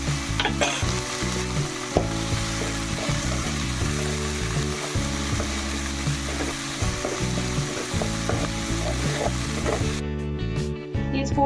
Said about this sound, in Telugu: 2 టేబుల్ స్పూన్లు ఉల్లిపాయ చిన్నగా చాప్ చేసుకుని కొద్దిగా వేయించుకోవాలి